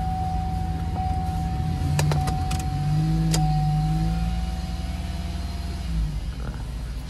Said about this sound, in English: Start her up. Let her warm up. See what she do. See what she sound like.